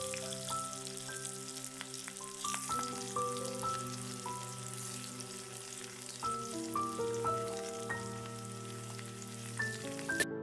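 Garlic and green chilies fry in a pan and are stirred, making a steady, soft sizzle that sits under louder background music with no talking.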